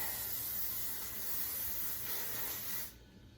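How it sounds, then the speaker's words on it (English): A steady hiss of hairspray sprays close by for a few seconds, then stops abruptly. "Start spraying."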